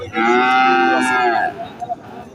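A small local-breed cow at a cattle market lets out a single loud, close moo lasting over a second, followed by quieter market noise.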